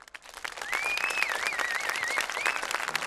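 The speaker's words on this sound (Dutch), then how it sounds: "Ik wil graag een hartelijk applaus voor deze twee mensen." A crowd at a children's carnival parade breaks into sustained clapping that swells after a moment and holds steady, with a whistle-like tone drifting over the top.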